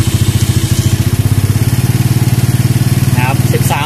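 A Keeway Superlight 200 motorcycle engine turns over and settles into a steady, thumping idle, close and loud, with a brief voice near the end.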